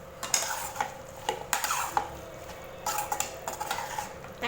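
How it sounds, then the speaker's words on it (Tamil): Chicken curry with tomatoes being stirred in a pan, a spoon scraping and clinking against the metal in irregular close strokes over a soft, steady sizzle, with no talking. "சேர்த்துட்டு இதை நல்லா மிக்ஸ் பண்ணி விட்டுக்கலாம்."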